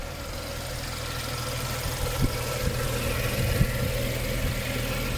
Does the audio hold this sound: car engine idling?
yes